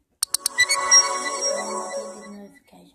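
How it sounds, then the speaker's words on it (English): A phone notification tone rings out nearby: a few quick sharp clicks followed by a bright, ringing chime that slowly decays over about two seconds, with no speech over it. "notification."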